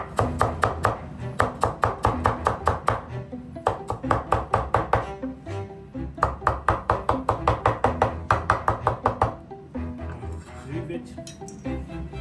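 A knife chops fresh mint on a board in quick, steady bursts of crisp taps, loud and close, pausing briefly between runs while a voice talks over it.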